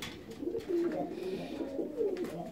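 Fancy ornamental pigeons cooing in a loft, several soft low throaty coos overlapping in a steady run, close and fairly quiet, with faint rustling around them.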